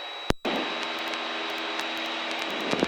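A light fixed-wing aircraft flying a circuit at Barton airfield, its engine a steady, fairly close drone with a brief dropout near the start, heard alone without talk.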